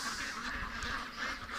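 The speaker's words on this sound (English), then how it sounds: "Okay, ducks, I'm going to let you guys out." Domestic ducks kept at a lake quack in a continuous nasal chorus at close range, their calls overlapping without pause.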